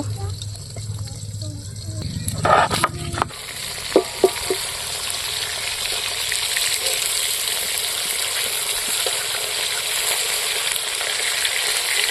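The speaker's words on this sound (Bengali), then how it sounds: "আমি মাছ চড়ে দিয়েছি মাছটা ভাজা হোক" Steady sizzle of rohu fish frying in hot oil, continuous and close, with a few clinks and knocks early on.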